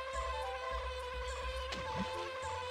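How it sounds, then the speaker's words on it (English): Bee buzzing in Banjo-Kazooie after the bear turns into a bee, a steady high droning hum that stays constant over a few seconds alongside faint game music. "Transform into a bee."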